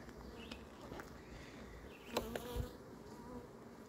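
Honeybees buzz in a steady, faint drone throughout an apiary hive inspection, with a few closer bees passing by and light handling sounds from the work.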